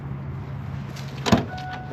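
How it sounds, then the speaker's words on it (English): A Mercedes trunk unlatches and begins opening automatically via the Keyless Go key fob, giving a short mechanical clunk over a steady low idle-like hum, then a faint whirring motor tone as the lid lifts. "and the trunk will open"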